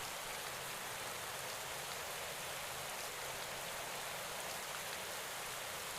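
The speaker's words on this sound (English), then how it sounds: "Hey, now it's raining." Rain falls in the Pro Cycling Manager cycling game as a steady, even hiss of dense rainfall, soft and continuous with no talking.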